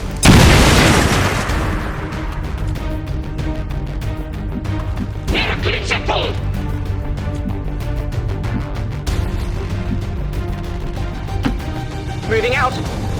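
Heavy bomb blasts in XCOM 2: War of the Chosen open with a loud boom that rolls into a sustained rumble, followed by steady battle noise with in-game voices speaking over parts of it.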